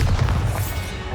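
Bombarda explosion spell in the Hogwarts Legacy video game, a single short deep boom with a brief crackling tail, loud and close.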